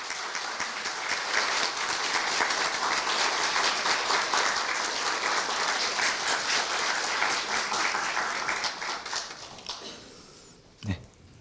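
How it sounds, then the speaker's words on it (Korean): Sustained crowd applause at a Korea University staff retirement ceremony during a medal presentation and commemorative photo, a full, even roar of clapping for about nine seconds, tapering off, followed by a single sharp tap. "큰 박수 부탁드립니다"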